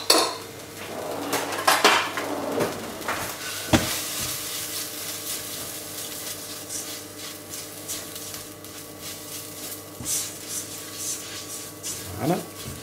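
A metal spoon clinks and scrapes in a pot as curry powder is stirred into a fish curry with coconut milk, with repeated utensil knocks and clatter, louder early on, then a quieter scraping stretch with occasional sharper taps.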